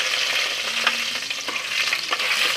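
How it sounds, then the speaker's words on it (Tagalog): Garlic frying in hot oil in a pan, a dense continuous sizzle close up with several scraping strokes of a utensil as it is stirred. "mainit na, maglagay tayo ng bawang. Then, haluin lang natin."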